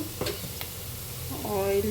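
Onions frying in a little oil, with a steady sizzle and a few scrapes and stirs of a spatula in the pan, the frying getting louder near the end.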